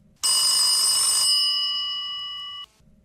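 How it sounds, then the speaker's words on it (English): A telephone bell rings once in a single long burst, loud and close, its bright metallic tone sustaining for about two seconds before cutting off, with nothing else heard. "I was rolling again when the phone began to ring."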